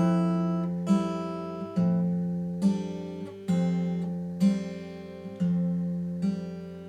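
An acoustic guitar plays a bar of a song, picked notes ringing out in a steady rhythm of about eight plucks with each decaying into the next, close and clear, with no voice.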